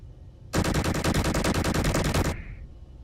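Rapid, dense machine-gun fire from a Star Wars cruiser's battery of guns in a ship-building video game, a loud sustained burst of just under two seconds that cuts off abruptly.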